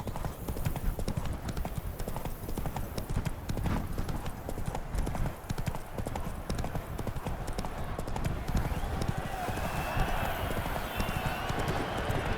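Galloping hooves of the horse Roach in the video game The Witcher III: Wild Hunt, a fast, continuous drumming clip-clop with a brief whinny, heard under game sounds and a voice.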